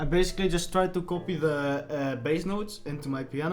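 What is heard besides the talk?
No everyday noise stands out behind the speech.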